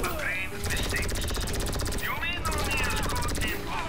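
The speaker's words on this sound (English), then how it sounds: "It's a laser rifle gun that, well, it costs a pretty penny, but it is worth it." Rapid laser rifle fire in GTA Online during the Doomsday Heist, a dense continuous stream of shots with a brief pause, loud and close, with faint game sounds and no talk.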